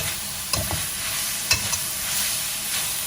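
Cabbage and chicken giblets are stir-fried over high heat in a pan, giving a steady loud sizzle with occasional scraping clatters from the stirring utensil.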